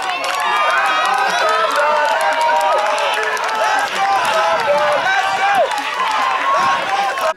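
A Toronto Thunder home crowd at an OVFL wildcard football game against the Kingston Grenadiers roars and chants to rally its defense, a loud, dense, sustained wall of voices with shouts rising above it throughout.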